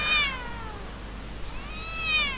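A cat meows twice, a rising-falling call at the start and another near the end, with a quiet pause between and no one talking.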